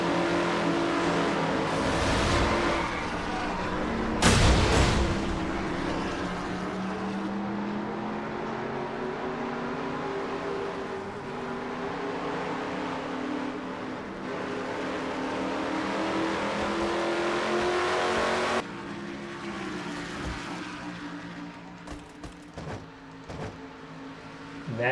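Budweiser Ford stock car in a racing video game at North Wilkesboro, engine droning loudly and revving through a crash, with sharp impact bursts and changing engine pitch before the sound drops away.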